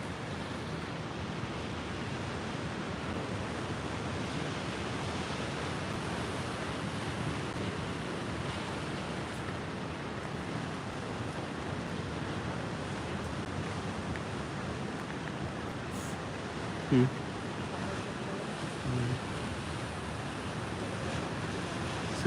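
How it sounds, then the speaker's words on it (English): Ocean waves and surf along the Northern California coast during a tsunami advisory, a steady broad roar of breaking water mixed with wind buffeting, continuous and fairly loud throughout with no talk. "Getting like a series of larger waves right now."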